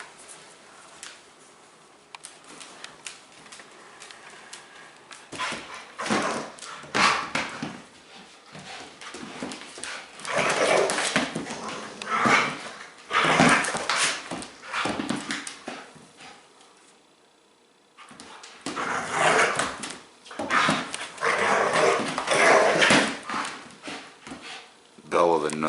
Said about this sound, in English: This is one high energy Rottweiler.